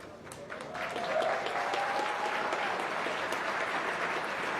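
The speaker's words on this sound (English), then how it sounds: "Y'all give these people a round of applause" Steady applause from a crowd honoring neighborhood leaders at a city gathering, a dense sustained wash of clapping with a faint tone running beneath.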